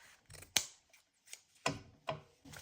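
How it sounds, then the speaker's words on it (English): Scissors cutting through a grungy piece of denim for a tag, several separate heavy snips at uneven intervals, close and fairly quiet, with no talking. "So let me cut this off."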